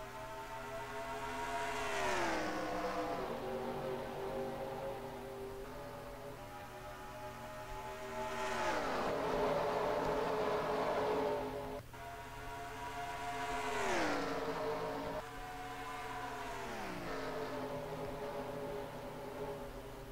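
Race cars in a NASCAR sim racing video game, Lucas Oil 400 at Chicagoland, accelerate at a restart, engines droning loudly and rising in repeated revving sweeps as several cars pass close by, with no talk.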